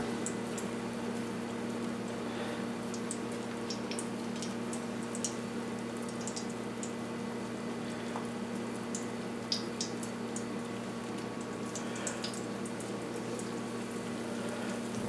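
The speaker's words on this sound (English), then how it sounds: "It's frying." Soft, continuous sizzling with scattered tiny pops and crackles, steady and fairly quiet, like food frying in a pan of oil.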